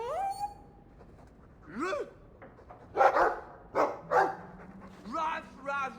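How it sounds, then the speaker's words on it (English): A dog in the Dragon Age 2 role-playing game gives a few short barks and whimpering yips, spaced out in separate bursts, mixed with other game sounds. "I like the doggy."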